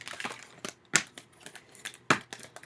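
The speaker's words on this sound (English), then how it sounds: "we're going to start all over again with me shuffling these cards" Tarot cards shuffled by hand, a run of soft papery riffles and sharp card snaps, close and fairly quiet with uneven bursts and two crisp louder slaps.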